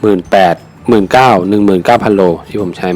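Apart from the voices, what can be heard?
No everyday noise stands out behind the speech.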